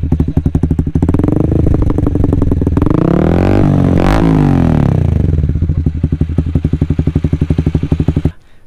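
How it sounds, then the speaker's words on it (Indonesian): A Honda CB150R motorcycle with an aftermarket racing exhaust revs hard close by, a loud raspy blat rising to a sharp peak mid-clip, then dropping back to a rapid, pulsing idle before cutting off. "suara knalpot racing akan semakin garang"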